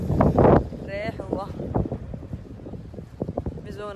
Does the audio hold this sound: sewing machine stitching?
no